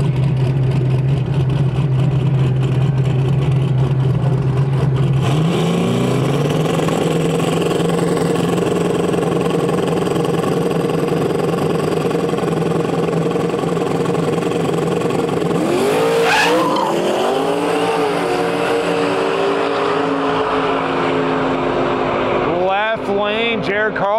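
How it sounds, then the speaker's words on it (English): Drag-race street car, an '86 Buick Regal among them, doing a long smoky burnout at Saskatchewan International Raceway: a loud sustained engine roar with squealing tires and revving surges, under a track announcer's commentary. "big smoky burnout here"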